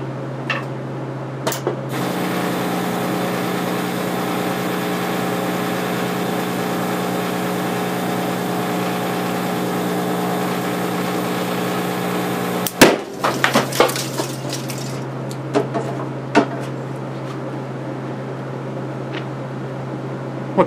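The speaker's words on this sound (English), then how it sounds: "Capacitor number two is hooked up. Let's give it a shot from the arc welder." Electrolytic capacitor hit by an arc welder: a steady electrical hum with a faint higher buzz, then one sharp loud pop as it bursts, followed by crackling and scattered small clicks.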